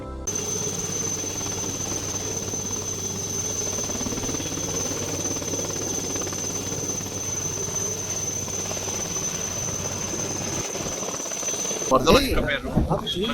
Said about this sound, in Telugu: హెలికాప్టర్స్